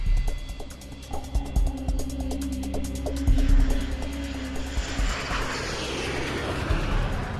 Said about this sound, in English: The airliner is just seconds from flying over the island of Sakhalin.